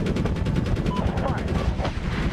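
Rapid bursts of gunfire crackle almost without pause in Medal of Honor (2010), dense and close, with excited voices talking over the shooting throughout.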